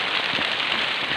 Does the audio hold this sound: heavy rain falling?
yes